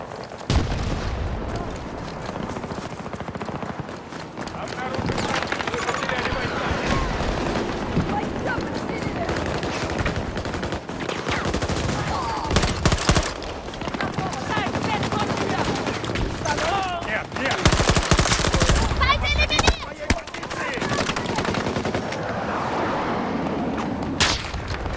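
In a Battlefield 2042 match, dense gunfire hits an objective: bursts of automatic fire, single shots and heavy booms overlap near and far, with voices coming through the combat.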